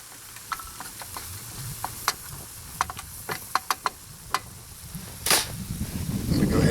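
Flour cooking in a mess kit pan, stirred with a utensil that scrapes and taps the metal in irregular sharp clicks over a soft sizzle, close by, with a louder rustle near the end.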